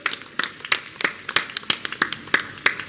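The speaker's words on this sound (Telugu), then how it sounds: "ఒక్కసారి గట్టిగా కరతాళ ధ్వనులతో బెహెన్జీ గారికి చప్పట్లు కొట్టండి" A crowd claps at a Mayawati rally in Peddapalli, a steady rhythmic run of sharp, separate claps at a moderate distance with no speech over them.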